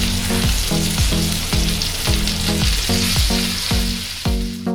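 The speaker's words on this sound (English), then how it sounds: "I think I hear a sizzle coming on now." Chicken cordon bleu sizzles and crackles in a hot frying pan, with a steady hiss and rhythmic scraping as it's stirred.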